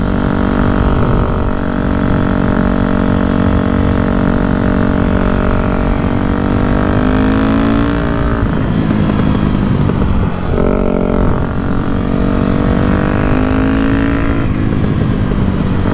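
A Yamaha YZF 250 motorcycle fitted with a V8 engine rides along, its loud engine drone rising and falling as it shifts and revs, steady and close throughout.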